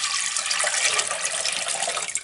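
About one and a half liters of water pouring for a soup, a loud, steady splashing rush of liquid filling a pot close by, with no talking.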